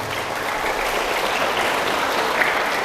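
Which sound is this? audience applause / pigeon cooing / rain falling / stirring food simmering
audience applause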